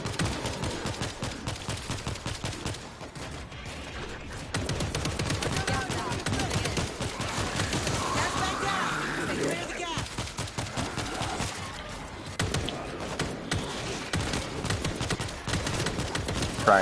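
Dense rapid gunfire rattles almost without pause at a zombie horde in World War Z, sharp repeated shots layered over game noise with a voice talking through it.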